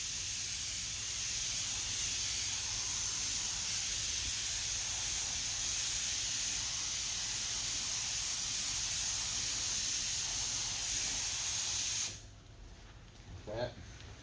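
Lacquer primer sprayed onto bare-metal spots of a car body panel after bondo dent repair: a steady, close, loud hiss running about twelve seconds, then stopping abruptly, leaving faint room noise and a brief soft knock.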